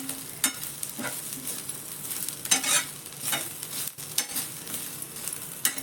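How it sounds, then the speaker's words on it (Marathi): Spice masala dry-roasting in a kadhai for a dal-ball amti, stirred with irregular scraping strokes over a soft steady sizzle, close and moderately loud with no talking. "मसाला छान भाजला गेला आहे."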